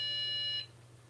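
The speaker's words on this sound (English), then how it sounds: "it beeps also if it has an error" An Asustor AS1304T NAS sounds a single high, steady electronic beep error alert for about half a second, close and clear, then cuts off to a low background hum.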